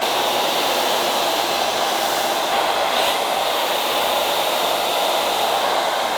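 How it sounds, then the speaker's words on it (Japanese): Hair dryer blow-drying the straightened top section of hair at a salon, a loud, steady, close airflow roar that runs without a break. "だから今日矯正かけた部分、このトップの部分だけは少しブローします。"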